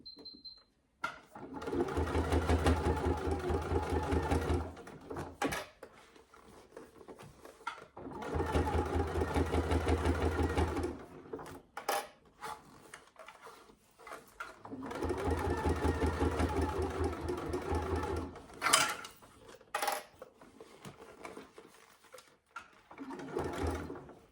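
A sewing machine top stitches a wash bag in three long, steady runs of rapid mechanical whirring, close up, separated by short pauses with small clicks and handling noises.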